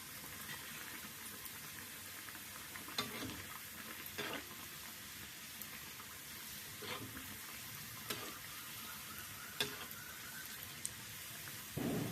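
Sweet somas fry in hot oil in a kadai with a soft, steady bubbling sizzle and occasional louder pops or stirs, fairly faint and with no talking.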